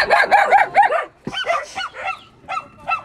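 Several puppies bark and yelp in quick, overlapping bursts, then break into higher whimpers and whines, close and loud throughout.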